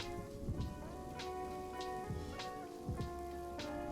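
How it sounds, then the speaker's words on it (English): Steady rain patters from an ambient sound app, with soft low rumbles that suggest distant thunder rolling under the continuous downpour, playing alone without any voices. "I love doing the rain and the thunderstorms"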